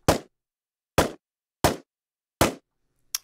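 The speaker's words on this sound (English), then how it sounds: "And here we have a distant shot." Four distant gunshots from a firearm in the Pavlov VR video game, evenly spaced sharp reports each with a short decaying tail, followed by a fainter fifth shot, with silence between.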